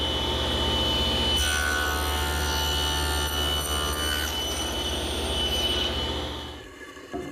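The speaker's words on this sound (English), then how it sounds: "I use my tenoning jig to make the cheek cuts." Table saw cutting tenon cheeks with a tenoning jig on a wooden bench part, a steady loud whine with the blade biting through the wood for several seconds before spinning down at the end.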